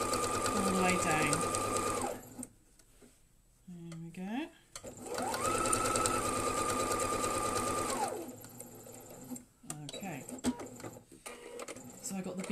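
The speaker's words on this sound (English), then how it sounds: "Now take it slow and steady, don't go too fast. And sew all the way down." A sewing machine stitches quilt fabric in long, steady runs with a rhythmic whirring hum, stopping and restarting twice, with a person talking between and over the stitching.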